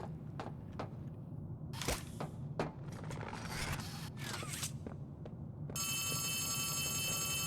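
A telephone in a video game rings with a steady, bright electronic trill that starts late and holds to the end, following scattered scrapes, clicks and rustling footsteps.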